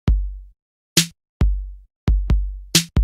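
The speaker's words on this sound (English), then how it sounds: "The kick and the snare alone sounds like this." A sparse electronic beat made in FL Studio: booming kick drums with long low decay alternate with sharp, noisy snare hits, about seven hits in three seconds, clean and close with silence between.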